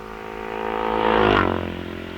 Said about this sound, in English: Now number 36 with a very, very flat sound, whose engine R.J. Warburton from Stockport on a Norton